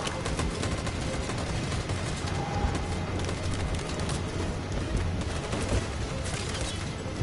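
Sustained gunfire from a firefight in Detroit: Become Human, a dense continuous fusillade of rapid shots running unbroken at steady loudness.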